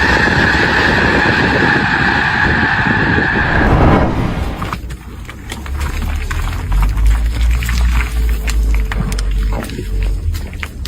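Thousands of birds lift off together in a synchronized flock, making a loud, dense rushing flutter that fills the whole stretch without pause.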